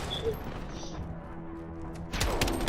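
Gunfire in Call of Duty: Modern Warfare 2019 beta: scattered soft shots give way to a loud, sudden burst of sustained firing in the final half-second, with voices faintly in the mix.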